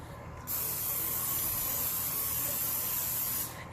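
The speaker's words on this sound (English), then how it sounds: "Spray it with the non-stick spray like Pam." A continuous hiss of non-stick cooking spray onto a pizza pan lasting about three seconds, starting and stopping cleanly against quiet room tone.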